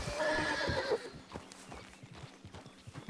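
A horse in Red Dead Online neighs loudly at the start, then its hooves clop in an irregular gallop, close by and with no talking.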